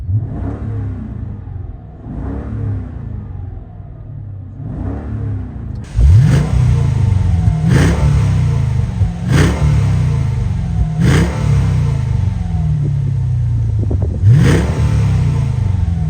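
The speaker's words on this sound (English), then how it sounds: "let's give it a little rev so you can hear it" A Brabus SL's Black Series engine revs repeatedly in sharp bursts, each rising and falling back to idle, loud and close, growing more intense partway through.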